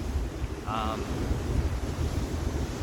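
Ocean surf washes continuously at the shore while wind buffets the microphone in a steady, rough roar, with a brief faint tonal sound near the start.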